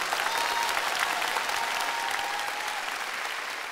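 Studio audience at a comedy sketch stage show applauding, a dense continuous roar of many hands, loud and even, slowly tapering toward the end without speech.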